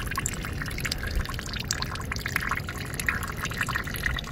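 A thin stream of running water pours steadily and close by, a continuous broadband hiss with no talk over it.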